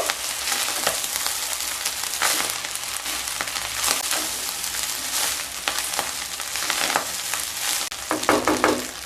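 Navratan pulao being mixed in a pot with rose water and slit green chillies, a continuous close sizzle with irregular scraping stirs throughout, no voices.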